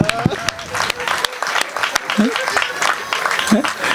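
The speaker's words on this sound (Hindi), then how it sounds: "एक बार ताली बजाए।" Audience clapping at a Hindi kavi sammelan poetry gathering in a township, a brief burst of claps mixed with voices and crowd noise, somewhat uneven and moderately loud.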